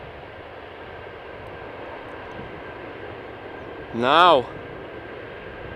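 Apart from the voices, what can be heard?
Boeing 747-400 aircraft engines at Amsterdam Schiphol Airport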